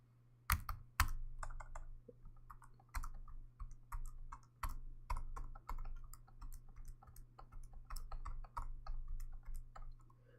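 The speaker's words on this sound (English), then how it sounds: "What I'm doing right now is just kind of banging on the number pad in the keyboard" Rapid, irregular key taps on a computer keyboard's number pad, with bursts of sharp clicks and a few louder strikes over a steady low hum, close and clear with no voices.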